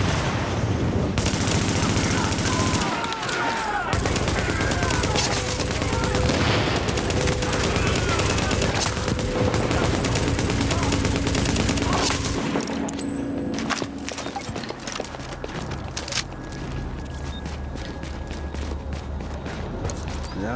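Continuous heavy gunfire in the shooter game The Division, dense automatic bursts and overlapping shots filling the whole stretch, loud and close, thinning slightly toward the end with mechanical clatter.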